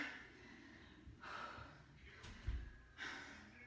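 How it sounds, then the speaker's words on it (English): Heavy breathing after a home cardio HIIT workout, slow deep breaths at close range, each a soft rush of air with a faint snort, about three in a row. "See, I'm catching my breath here."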